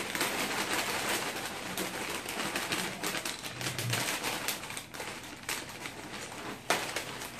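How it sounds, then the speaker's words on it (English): Sour cream and onion chips crushed inside a Ziploc bag make dense, irregular crackling and crunching, close and fairly loud, with sharp crinkly bursts throughout. "So I'm going to put them in this Ziploc bag. And I'm going to make a lot of noise."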